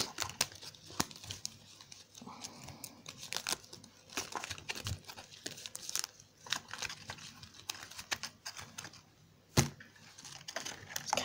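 Rapid crisp riffling and papery crinkling bursts of tarot cards being shuffled, close by and irregular, with brief pauses between flurries and no talking.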